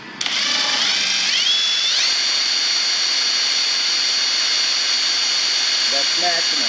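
A Kobalt 24V cordless impact driver spinning up to top speed, a high whine that rises in pitch, then holds steady and loud, before a few short tapping sounds near the end.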